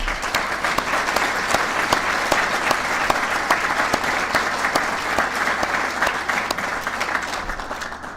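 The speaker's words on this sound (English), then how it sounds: "If we could all give him one more round of applause." Banquet audience at a golf association awards dinner gives a sustained round of applause, dense even clapping from a large room that carries on unbroken for over eight seconds.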